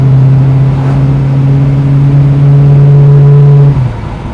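A 1974 AMC Javelin hot rod idles with a loud, deep, steady exhaust rumble up close, then the engine note drops suddenly near the end.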